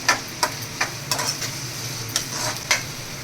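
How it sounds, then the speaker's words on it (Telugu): Onions and green chilies frying in a pan, a steady sizzle broken by repeated scraping stirs at a regular pace, close and clear with no voices. "ఇప్పుడైతే ఆనియన్స్ గోల్డెన్ బ్రౌన్ కలర్ వరకు ఫ్రై చేసుకోవాలి."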